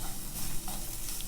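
Garlic fries in a pan with a steady, faint, close sizzle and hiss, a short continuous burst of cooking noise with no talking.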